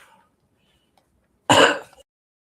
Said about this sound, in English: Watch, this will make me start coughing.